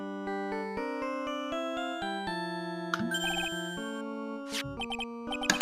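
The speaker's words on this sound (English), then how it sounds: "The motherfucker's own theme as a ringtone." A phone ringtone plays a character's theme from the Ace Attorney: Trials and Tribulations game as a bright, plinking electronic melody. Steady notes later give way to quick trills and jingling flourishes, clear and alone.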